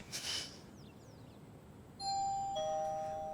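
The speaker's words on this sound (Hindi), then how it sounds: "इस घर में घंटी बजनी बंद ही नहीं होती।" An indoor electronic doorbell plays a two-tone chime that rings out clearly after a brief faint noise, with the tone holding and fading near the end.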